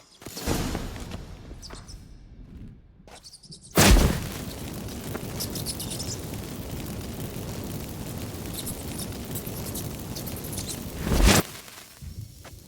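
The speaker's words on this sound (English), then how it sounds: "Get ready for some magic fireworks." Incense activated in The Witcher 3 sets off magic fireworks: a sharp burst near four seconds, a sustained crackling rush, then a second loud pop near eleven seconds, with quieter game sounds before.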